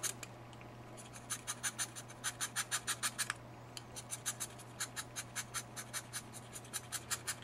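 A pencil's wooden tip is scraped with a razor blade in a steady series of short, crisp strokes, about twenty rasps with a brief pause midway, close and clear over a low steady hum.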